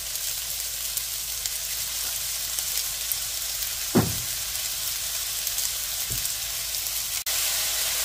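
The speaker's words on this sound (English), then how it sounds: "now we're going to add some fish sauce" Fish sauce poured into a pan of sizzling drunken noodles, a steady broadband frying hiss throughout with a brief splash-like burst as the liquid hits the hot pan and a softer one shortly after.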